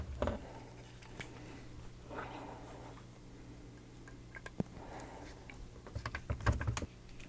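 Small screws being driven into a Volkswagen T1 Samba camper van model kit, giving faint scattered clicks and light scraping ticks, with a few sharper taps near the end, in an otherwise quiet room.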